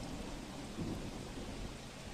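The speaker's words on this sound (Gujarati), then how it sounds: "જ્યાં ધોધમાર વરસાદ વરસી રહ્યો છે" Steady, dense downpour of heavy rain hissing continuously, with a faint low rumble of thunder in the background, in Ahmedabad.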